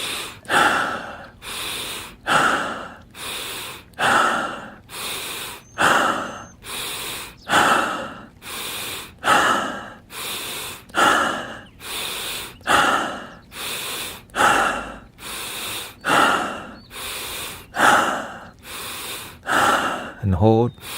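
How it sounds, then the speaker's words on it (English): Stomach breathing exercise in a sound healing workshop, a long series of loud, close breaths in a steady rhythm, each airy inhale or exhale followed by a short pause, roughly every 1.3 seconds. "And stomach breathing begin."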